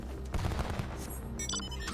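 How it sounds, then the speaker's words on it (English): Machinist gunfire from Final Fantasy XIV comes as a short burst of rapid game shots and bangs mixed with other effects, moderately loud with no talking. "Is that what a machinist sounds like when they fire their gun?"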